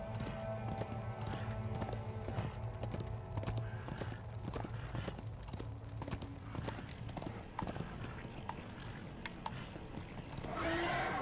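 Horse hooves clip-clopping in a steady trotting rhythm while riding through Darksiders II, close and continuous under game music and ambience, with a brief whinny-like swell near the end.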